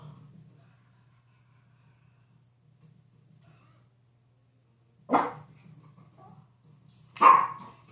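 A dog barks twice indoors, two sharp separate barks a couple of seconds apart after a long quiet stretch, fairly close but not very loud.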